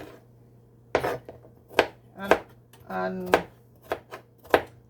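Organic cucumber chopped into cubes on a cutting board, a series of crisp, separate knife thunks at an uneven pace, close and clear, with a person speaking between the cuts.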